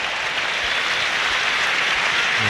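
A football crowd at the Stadium of Light, Sunderland, during a Premier League match against Leeds United, gives a sustained ovation: dense, continuous applause and crowd roar throughout.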